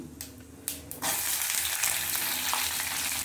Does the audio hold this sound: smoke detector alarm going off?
no